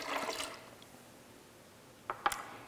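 Half a cup of water pours into a high-speed blender with a brief splashing burst at the start, then fades to quiet before a couple of short liquid plops at the end.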